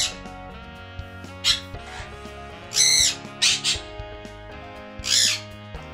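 Several loud, harsh parrot squawks burst out in short clusters, sharp and close, with brief quiet gaps between them.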